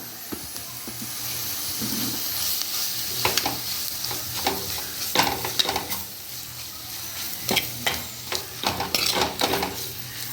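Chili powder and grated coconut are stirred and sautéed in a pan for a fish curry, with a steady soft sizzle broken by irregular scraping stirs of the spoon against the pan.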